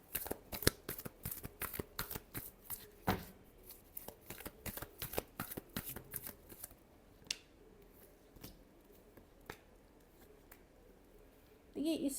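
Tarot cards are shuffled close by in quick, rapid riffling bursts, then slower scattered flicks, with a voice speaking near the end.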